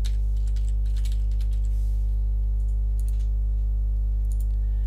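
Computer keyboard typing mixed with mouse clicks while a new folder is created in a TigerCMS file archive: scattered, light taps over a loud, steady electrical hum.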